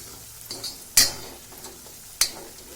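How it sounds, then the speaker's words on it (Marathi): Quiet scraping of a spoon stirring thick gram-flour masala paste in a pan, with two sharp metallic clinks standing out over a soft background sizzle. "हे डाळीचं पीठ असतं ना हे थोडं इथे असं भाजायचं"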